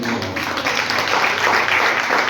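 Congregation applauding in church during a Spanish-language sermon, a steady dense patter of many hands clapping that fills the whole moment at moderate loudness.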